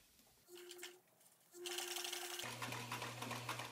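Sewing machine stitching down the side of a rolltop backpack kit's fabric, with short bursts of whirring motor that start and stop, then one long steady run, close and fairly quiet.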